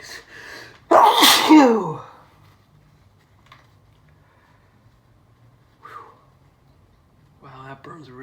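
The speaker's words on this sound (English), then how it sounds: "I'm gonna sneeze." A single loud, sharp human sneeze bursts out near the start after a brief breath, followed by quiet and a few soft breaths and small vocal sounds.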